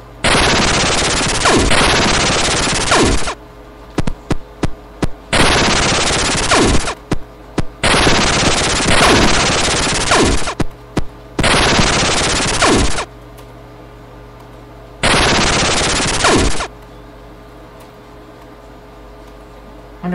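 Bursts of rapid automatic gunfire in the video game Radioactive Decay, several loud sustained volleys of a few seconds each separated by short pauses.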